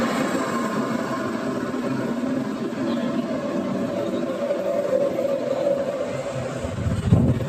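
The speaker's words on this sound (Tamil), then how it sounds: "so train வந்துடுச்சுங்க," A train in Malaysia rumbles in with a steady low roar and hum that rises slightly, ending with a thud near the end.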